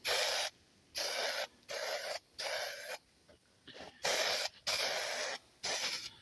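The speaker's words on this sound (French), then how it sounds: "Pareil, avec toujours cette bombe de peinture." An aerosol spray paint can painting Peugeot 306 body parts, heard up close in about eight separate hissing bursts, each under a second long, with short silent gaps between them.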